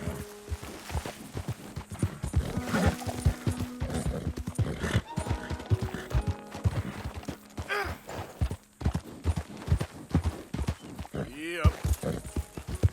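Horse hooves clip-clop at a gallop in Red Dead Redemption 2, loud and close in a steady rhythm, with a whinny and game music or voices mixed underneath.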